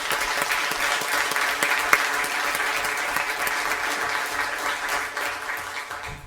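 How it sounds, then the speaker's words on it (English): An audience at a school district governing board meeting applauds a student speaker with sustained, dense clapping that stays even throughout and tapers slightly at the end, fairly close in a large room. "Let's give him another round of applause"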